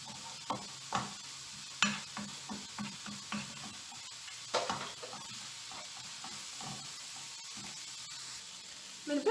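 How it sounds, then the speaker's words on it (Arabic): Savory pastry filling mixture with red pepper being stirred in a bowl, a series of soft scraping, rubbing strokes at an uneven rhythm, close and fairly quiet, with no talking. "كنخلط الكل."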